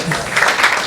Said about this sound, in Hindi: तो बहनें लोग ताली बजाइए जोरदार